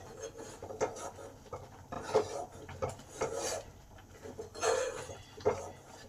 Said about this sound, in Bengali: আর এই ধারগুলো কন্টিনিউ এরকমভাবে চেঁচে যেতে হবে, নাহলে এইদিকে দুধগুলো সর হয়ে যাবে।